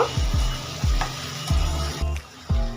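Spices and softened tomato sizzle in a pan while a spoon stirs them, with repeated scraping strokes about every half second over a continuous close frying hiss.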